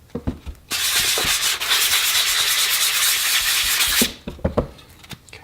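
Steady, harsh scratching of sandpaper rubbing the wooden stock of a Danish 1891 Krag infantry rifle for about three seconds, bracketed by a few short, quick sanding strokes.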